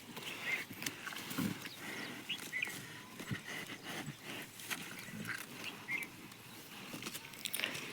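Oxen are walked about for a short spell after hauling a bullock cart of cut grass. Their faint, irregular hoof steps clop on the ground at a moderate distance, with light chirps scattered above.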